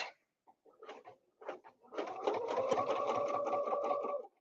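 Sewing machine stitching quilting fabric along a ruler template, a few short stop-start bursts that settle into a steady, close mechanical whir with rapid needle rhythm.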